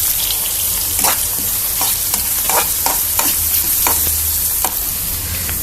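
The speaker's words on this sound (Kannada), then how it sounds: "ಹಸಿಮೆಣಸಿನ್ಕಾಯಿನ ಆ್ಯಡ್ ಮಾಡಿ ಈರುಳ್ಳಿ ಗೋಲ್ಡನ್ ಬ್ರೌನ್ ಬರೋ ತನಕ ಚೆನ್ನಾಗಿ ಹುರ್ಕೊಳ್ಳಿ" Onions sizzle steadily in hot oil with mustard seeds, cumin, dals, cashews and green chilli, while a spoon stirs through the pan in repeated scraping strokes, close and fairly loud.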